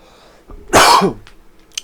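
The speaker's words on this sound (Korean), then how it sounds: "소식을 전하기 전에 기침 한번 시작했습니다" One short, harsh cough up close, alone in a quiet room.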